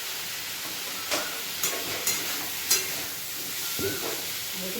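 Rice sizzles in ghee in a pan while being stirred for khichuri, a steady frying hiss with several soft scraping stirs, close and alone.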